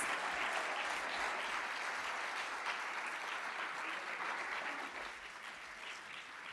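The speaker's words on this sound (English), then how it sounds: "they deserve another really loud round of applause" Sustained, dense applause from a large audience at the opening ceremony of STC 2024 in Grenada, loud and steady for several seconds before easing slightly near the end, with no voices over it.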